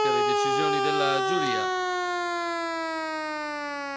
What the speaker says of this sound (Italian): Con percorso di testa Gagliardo, suona la sirena